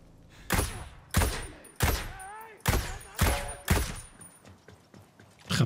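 Video game gunfire while running and shooting: about seven heavy, evenly spaced shots roughly every half second to second, each with a booming low tail, fairly close, with a brief tonal whine between them.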